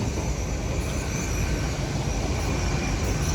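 Class 800 train 800 314 arriving at Exeter St Davids station, a loud, steady rumbling roar of the passing train that fills the whole stretch without any talk.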